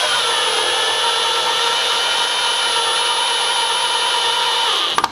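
Power drill driving screws through pocket holes to fasten 2x4 boards onto a wooden arbor, a steady continuous whir held for about five seconds before stopping abruptly.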